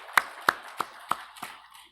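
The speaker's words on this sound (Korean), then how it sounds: "영광의 박수를 드리겠습니다" A church congregation applauding during a Sunday worship service, five or six distinct, evenly spaced claps that fade and grow softer toward the end.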